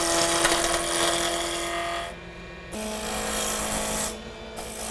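A skew chisel, short point leading, cuts wood spinning on a lathe, giving a steady, close, abrasive hiss with two brief breaks where the tool lifts off.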